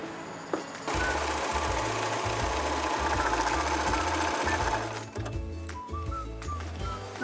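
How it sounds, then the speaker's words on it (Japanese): An overlock sewing machine finishing the edge of cosplay costume fabric runs loud and close in a fast, steady mechanical whir, briefly easing off near the end before resuming. "ロックミシンがかけれました"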